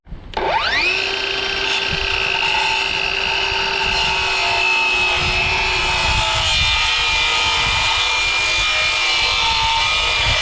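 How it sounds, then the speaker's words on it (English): A power saw cuts a sliver of antique timber for a tiny log home, spinning up quickly and then holding a loud, steady whine for about ten seconds, with no voices. "So I'm going to cut my sliver 1 inch"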